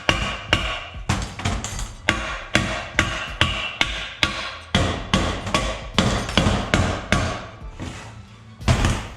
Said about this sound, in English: what I always first do is just smack on it a little bit with a hammer